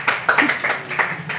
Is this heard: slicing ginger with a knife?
no